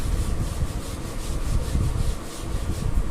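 A board is rubbed clean during a classroom lesson, producing a steady, continuous scrubbing swish that stays close and moderately loud for the whole stretch, with no voices over it.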